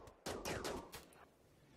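Gunfire in the tribal colony game Rimworld: a quick burst of several sharp, loud shots packed close together, followed by fainter trailing reports that die away into quiet.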